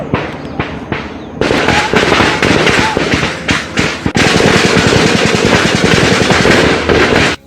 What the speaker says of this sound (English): The Ugandan security forces are shooting live bullets at unarmed citizens.